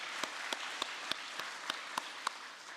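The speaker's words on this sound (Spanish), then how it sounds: "extendamos nuestra profunda gratitud y honremos a la Madre Verdadera con un estruendoso aplauso por esta asombrosa victoria" A church congregation claps in rhythmic unison, about eight evenly spaced sharp claps rising over a soft, continuous bed of scattered clapping, fairly quiet and distant overall.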